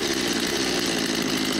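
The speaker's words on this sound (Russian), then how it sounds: "Анна Инна пытается завести бензопилу." A gas chainsaw, used by protesters cutting down a cross in Kyiv, runs loud and close with a steady, buzzing engine drone throughout.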